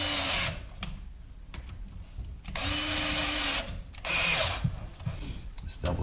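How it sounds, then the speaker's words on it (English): A cordless drill tightens the clamp on a rubber coupling joining sump pump pipes, several short close whirring bursts with pauses between them, the motor pitch bending as the clamp draws tight. "Then you just take your drill and you tighten it up."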